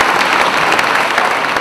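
A large crowd applauds steadily inside an arena at a Republican campaign rally in Macon, a dense, continuous wash of clapping with no speech.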